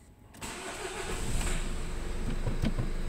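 A Nissan X-Trail's engine catches after a brief quiet moment and settles into a steady, fairly loud idle, running on alone with a slight rise and fall in its hum.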